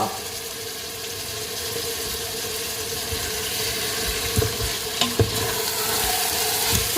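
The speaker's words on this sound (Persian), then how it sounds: "سبزی ما سرخ کرده است" Chopped herbs fry in oil in a pot for ghormeh sabzi, making a continuous, close sizzle with a few light knocks and scrapes near the end.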